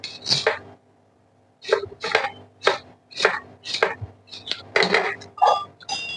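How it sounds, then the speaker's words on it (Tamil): A knife chopping coconut into pieces on a cutting board: a steady series of sharp, close knocks in irregular rhythm after a short pause, with faint clinks between cuts. "தேங்காயை நம்ம பீஸ் பீஸாக கட் பண்ணி எடுத்துக்கோம்."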